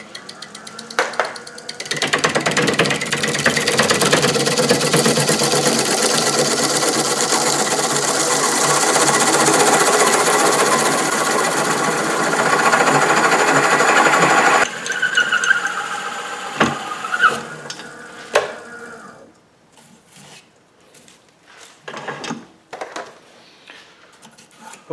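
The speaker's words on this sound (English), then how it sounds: "I got the Forstner bit mounted on the tailstock, so I'm just going to try and drill this out." Forstner bit mounted on a wood lathe's tailstock drilling into a small log turned at low speed: a loud, steady grinding whir for over ten seconds, then scattered scraping, knocks and squeaks as drilling stops.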